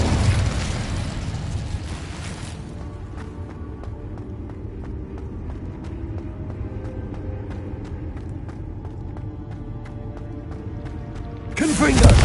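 Incendio fire spell cast in a Harry Potter game, a loud fiery whoosh and burst at the start, a quieter stretch of low rumble and ticks, then another sharp flare at the end.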